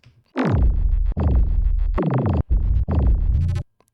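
A deep synthesized rumble bass plays a series of four sustained notes with sharp attacks, humming low with a slightly gritty, buzzy edge.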